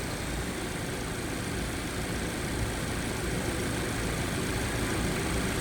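A car engine idles steadily during an air-conditioning superheat and subcooling test, a continuous low rumble with broadband hiss at constant loudness and no speech.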